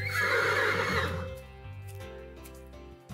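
A loud horse whinny from a video game, Animal Trainer Simulator: Prologue, rises and falls at the start, then fades into soft sustained tones with no talking.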